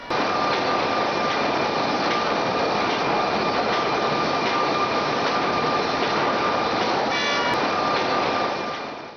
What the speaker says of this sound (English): Here, high-speed saws remove the uneven outer edges